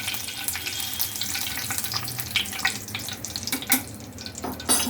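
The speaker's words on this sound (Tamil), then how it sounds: "கருவேப்பிலையை போடும்போது சிம்மில் வச்சுக்கோங்க. ஏன்னா இது படபடன்னு தெரிக்கும்." Fresh curry leaves splutter and crackle in hot oil on low heat while fried gram (roasted chana dal) is made at home; dense, irregular sizzling pops run steadily throughout, fairly close and moderately loud.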